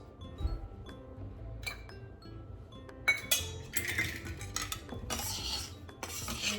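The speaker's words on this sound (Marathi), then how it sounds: "आता मी यात मिक्स करते थोडे ड्रायफ्रुट्स" A spoon mixes dry fruits into a sweet laddu mixture in a metal bowl, producing irregular clinks, scrapes and rubbing knocks close by, growing busier and louder toward the end.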